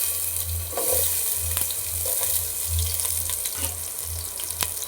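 Chopped onion with mustard seeds frying in oil in a pan for Bangada fish curry: a steady, close, bright sizzle with soft crackles and occasional stirring scrapes, and a low rhythmic hum pulsing underneath.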